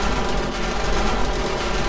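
Rapid automatic turret fire in a Borderlands horde-night game fills the clip with dense, continuous gunfire, loud and unbroken throughout with no pauses.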